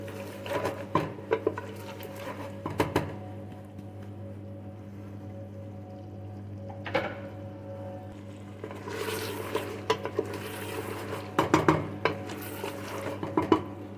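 Meat being stirred and fried in a pot for Peshawari namkeen gosht, with scattered metallic scrapes and clinks over a steady kitchen hum, a few busier clusters of stirring near the end, and no talking.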